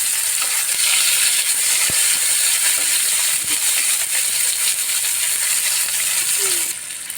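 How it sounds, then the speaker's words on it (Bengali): Chopped onion frying in hot oil after whole cumin and green chillies, for a katla fish curry, making a loud, dense sizzle that runs continuously with a few faint clinks, and no talking. "এবার দিয়ে দিচ্ছি পেঁয়াজ কুচি। পেঁয়াজটাকে ভাজবো।"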